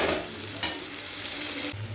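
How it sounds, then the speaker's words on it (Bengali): Eggs coated in spice paste sizzle and sputter in oil in a pan, a steady close crackle with a stir scraping through it, no voices. "আমার কিন্তু কষে গেছে, তেলও ছেড়ে দিয়েছে, ডিমের সাথে মশলা পুরো লেগে গেছে"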